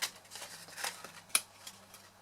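Scissors trim the angled edge of a paper craft cube, making soft snipping and rustling sounds with one sharper cut in the middle, close and fairly quiet.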